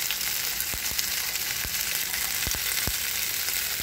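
Ginger garlic paste fries in a pan with a steady, dense sizzle while a spoon stirs it, scraping the pan in a handful of short strokes at an uneven pace. Nobody speaks.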